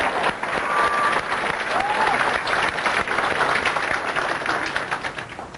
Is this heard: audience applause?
yes